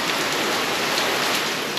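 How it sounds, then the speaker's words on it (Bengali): Heavy rain pours down outside a house, a dense, even hiss of drops striking surfaces. It is loud and unbroken from start to finish, with no voices. "কি বৃষ্টি এসছে।"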